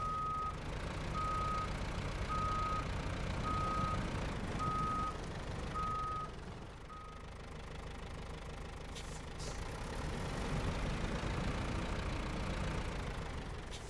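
Repeated reversing beeps ring out over a loud, steady diesel rumble as a logging truck backs up to hitch a trailer in SnowRunner's Drowned Lands; the beeps stop partway and the engine keeps idling.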